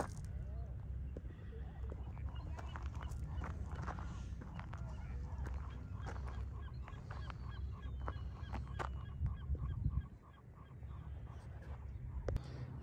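Seagulls and ducks call at the Abelardo L. Rodríguez reservoir in Tijuana, scattered honking and squawking cries over a steady background, with people talking nearby.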